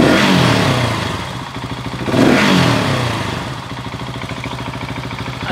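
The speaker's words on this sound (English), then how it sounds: "We're gonna rev it." A KTM 690 single-cylinder motorcycle engine revs up twice in close succession, each surge rising and falling, then settles into a steady, rapid idle thump, loud and close with no one talking.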